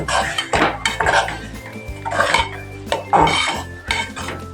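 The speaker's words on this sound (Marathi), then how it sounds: "सगळं पीठ हलवून घेऊ" Rice flour being stirred into boiling water in a pot for modak dough, with repeated scraping and clattering of a spoon against the pot in an irregular rhythm, close and fairly loud.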